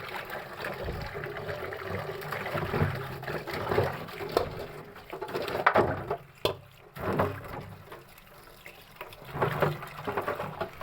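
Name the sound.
washing raw banana in water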